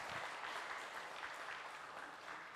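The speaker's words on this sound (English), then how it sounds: "please give a round of applause for Group G" Applause from the audience at an international student summit session, a steady patter of clapping heard from a distance and fairly faint, with no speech over it.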